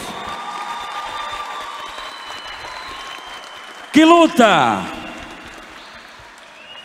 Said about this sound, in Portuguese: bate uma salva de palmas para esses guerreiros